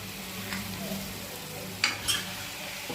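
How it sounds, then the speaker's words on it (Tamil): Mushrooms and tomatoes being stirred and sautéed in a pan for a millet mushroom biryani, giving a steady low sizzle with a couple of sharper utensil scrapes near the end, close and without talk. "காளான் சேர்த்து கொஞ்ச நேரம் வதங்கிடுவோம்"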